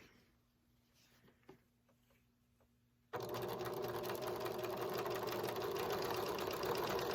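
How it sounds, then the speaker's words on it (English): After a few quiet seconds with faint handling clicks, a sewing machine abruptly starts and runs steadily at high speed, stitching quilt bias binding pieces, a loud continuous rapid chatter, with no talking. "I'm going to very carefully sew all these pieces together"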